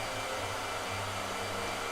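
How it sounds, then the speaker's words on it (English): A hair dryer blows steadily at close range, a continuous loud rushing whoosh with a low hum, unbroken and without voices, during a live painting session. "he can't hear me with the hairdryer"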